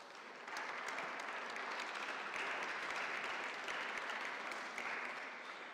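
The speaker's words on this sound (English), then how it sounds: "If everybody could give him a round of applause." Audience applause at a formal conference on interfaith dialogue and freedom of religion, a steady, dense patter of many hands clapping alone, fairly faint and distant, with no talk over it.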